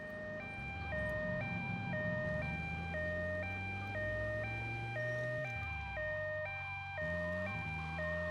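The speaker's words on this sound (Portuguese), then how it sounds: "Buzina, desligar a sirene." An emergency vehicle siren in GTA Vice City Stories on PS2 wails in a steady two-tone alternating pattern, loud and continuous over in-game engine noise.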